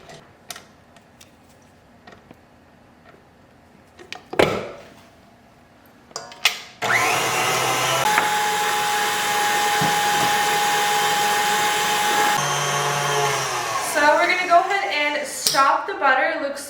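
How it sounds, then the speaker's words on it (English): An electric mixer whisks butter until smooth, starting after some clatter and a few knocks, then running with a steady loud whir for about six seconds before stopping, followed by scattered handling noises. "then I'll turn the mixer on again"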